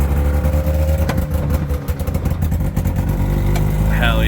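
A 1973 Suzuki LJ20 4x4, restored after rolling down a cliff, drives along with a loud, steady, close engine drone and rumbling road noise.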